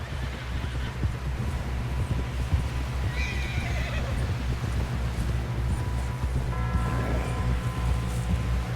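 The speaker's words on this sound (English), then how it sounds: "Someone help John down off this horse" In the Red Dead Redemption 2 video game, a horse whinnies twice over a steady bed of clip-clopping hooves and wind, the neighs rising clearly above the constant low rumble of movement.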